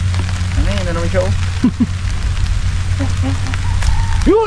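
Steady rain falls outdoors beside a creek during a fishing outing, a constant close hiss with voices talking over it.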